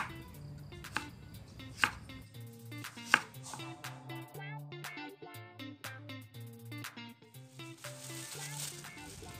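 A knife chops tomato on a cutting board in a home kitchen with a few sharp, irregular, close knocks, over a quiet background hum and a faint murmur.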